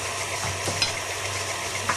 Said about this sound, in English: we're going to mix that up just until it's incorporated